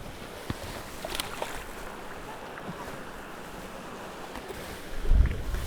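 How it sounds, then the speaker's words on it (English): Gusty wind buffeting a microphone on a lake during walleye fishing from a boat, a low continuous rumble with small water splashes and a stronger gust near the end. "A little bit of wind."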